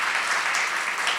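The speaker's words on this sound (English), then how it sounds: "another round of applause for Chaitra sir" Lecture audience at a literature festival session claps for a speaker, a brief, even burst of applause heard on its own.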